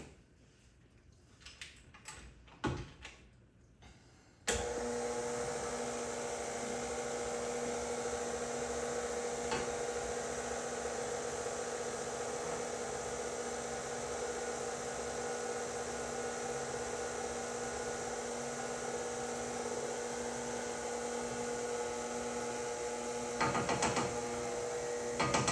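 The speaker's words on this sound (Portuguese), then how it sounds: "Estão vendo como a batedeira muda? Porque ela tá pesada, a massa tá pesada." An electric stand mixer beating dense lemon cake batter, a steady mechanical whir with a constant hum that starts abruptly after some quiet clatter and runs unbroken, nearby and moderately loud.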